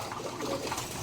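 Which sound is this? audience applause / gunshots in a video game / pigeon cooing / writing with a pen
pigeon cooing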